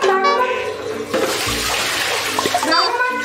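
Water runs from a tap at home for a beagle puppy's first bath, a gushing splashing stream that starts midway and keeps going while a person talks over it.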